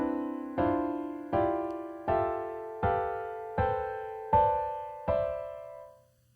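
Four-note spread cluster chords based on C played as a rising chord scale on a keyboard, eight separate chords struck one after another, each ringing and decaying cleanly.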